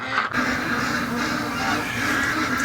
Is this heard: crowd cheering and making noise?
no